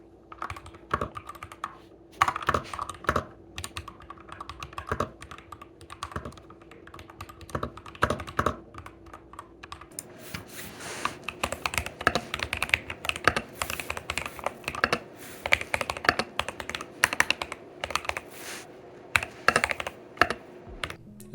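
Someone types on a BOYI WK68 mechanical keyboard fitted with linear switches, producing dense, close clacks in quick irregular bursts. The keystrokes grow busier and brighter partway through, and there is no speech.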